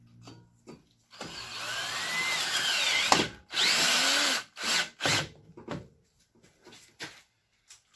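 A power drill whines loudly as it drives a self-tapping screw into the exhaust pipe of a 1996 Land Rover Discovery, with a long continuous run followed by several short bursts and brief pauses.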